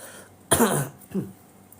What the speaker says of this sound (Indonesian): Batuk-batukan.